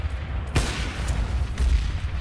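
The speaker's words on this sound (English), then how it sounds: "Mo tries to go for a Guardian-esque wall bang towards Z." A single sharp gunshot through a wall in Counter-Strike: Global Offensive, then a second fainter crack, both close and loud over steady background game noise.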